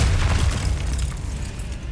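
A Bombarda spell explodes in Hogwarts Legacy, a dense, sustained low rumbling boom that fills the whole moment with heavy blast energy and crackling debris.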